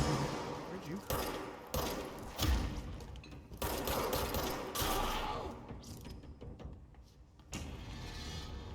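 Enemy gunfire in the video game Control, arriving as repeated sharp bursts and clattering impacts over a busy mechanical background, moderately loud, with a short lull before the shooting picks up again.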